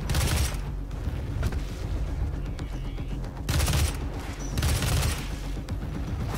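Rapid gunfire and explosive blasts from demon enemies shooting in the game Doom, loud dense bursts coming in repeated volleys with short lulls between them.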